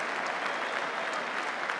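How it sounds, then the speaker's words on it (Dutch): Spectators in the stands at Jan Breidel football stadium applaud steadily, a dense, even wash of many hands clapping at moderate distance throughout, with no voices over it. "Applaus van op de tribunes."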